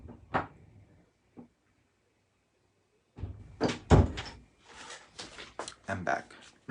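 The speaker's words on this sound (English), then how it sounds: "Let me just open the door" Indoor door opened at home, a few knocks and thumps followed by a louder clunk and rattling handling sounds, with a person speaking nearby.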